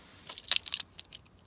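A set of Ford Mondeo Zetec car keys jangles briefly and close up: a few quick metallic clinks and rattles over about a second, fairly faint, with no voice.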